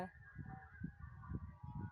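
Geese honk in short, repeated nasal calls, close but fairly quiet against low background noise.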